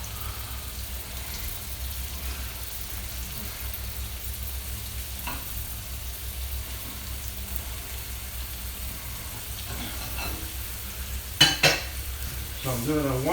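Ground turkey and potatoes sauté in a frying pan for a goulash, a steady close sizzle with a few scraping stirs and utensil clinks near the end.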